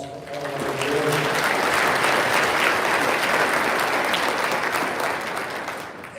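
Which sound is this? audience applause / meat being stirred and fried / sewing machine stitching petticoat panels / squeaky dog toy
audience applause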